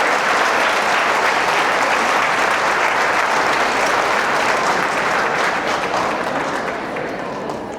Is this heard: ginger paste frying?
no